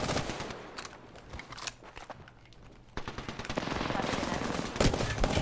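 Automatic gunfire in the Apex Legends battle royale game, rapid bursts of close shots crackling continuously, growing denser and louder toward the end.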